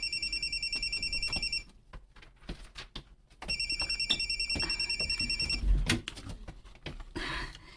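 A telephone rings in two long bursts of rapid electronic trilling separated by a pause, fairly close and clear, followed by shuffling and a thump as the call is about to be answered indoors.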